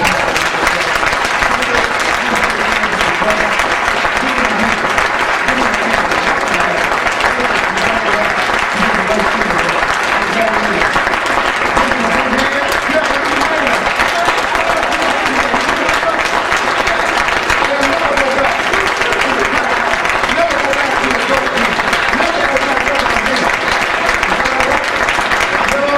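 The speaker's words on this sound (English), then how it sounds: "Give them a great big round of applause." A large audience at a mosque in Phoenix, Arizona applauds steadily and loudly for the whole stretch, a dense, continuous wash of clapping with a murmur of voices mixed in.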